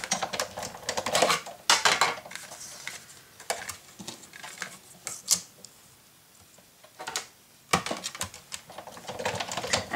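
Paper being cut for a spring deluxe mini album, with sharp irregular snips and crisp rustling bursts in uneven clusters, close and fairly loud, separated by quieter pauses and no talking.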